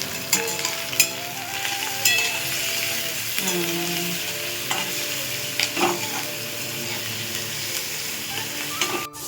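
Crushed garlic sizzles steadily in a hot pan, with a few scrapes of stirring and a sustained tonal hum running underneath.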